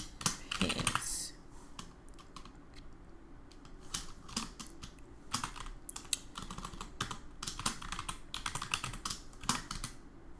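Keys clatter on a computer keyboard as a file name is typed, a quick burst of loud strokes at the start followed by scattered, irregular taps and short runs of typing, close and clear with no talking.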